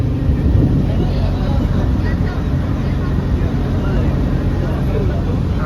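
A boat moving on Hussain Sagar Lake in Hyderabad: a low, steady engine rumble with wind buffeting the microphone, continuous and fairly loud.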